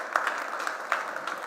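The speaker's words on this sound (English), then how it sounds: "you deserve a round of applause, guys" Audience applause at a community kickoff event, a steady moderate patter of clapping with a few sharper individual claps, no voices over it.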